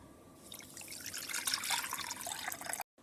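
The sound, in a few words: water poured into pot with sugar for syrup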